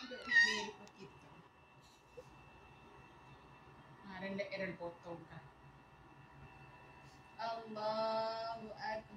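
A child imitates a cat's meow in a few short vocal bursts separated by pauses, quiet and close, as in a simple game of making animal sounds.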